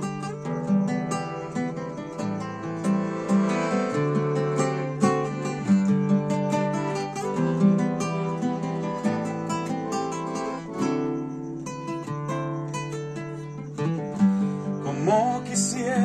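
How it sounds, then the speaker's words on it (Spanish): A Spanish-language ballad, 'La promesa de ser feliz', with a sustained instrumental arrangement of gentle keys and accompaniment that flows continuously and softly, with no singing yet. "se llama La promesa de ser feliz. Es una balada y suena así."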